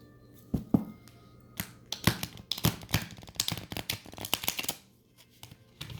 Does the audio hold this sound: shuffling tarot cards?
yes